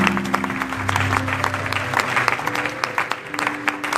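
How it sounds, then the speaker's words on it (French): A church congregation applauding after the call to acclaim the word of God at a French-language Christian service, sustained dense clapping from a nearby crowd with some voices mixed in. "Acclamons la parole de Dieu."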